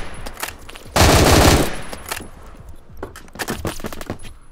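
Bursts of M16A3 rifle fire in the shooter game Phantom Forces: one sustained loud automatic burst, then scattered short rapid shots and single cracks, close and sharp.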